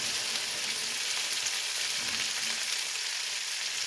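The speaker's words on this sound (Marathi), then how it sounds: "नंतर त्यावर मी टाकत आहे हे कापलेले भेंडे" Chopped okra hitting hot oil with cumin in a pan, giving a steady, dense, close sizzle and crackle that holds evenly throughout without pause.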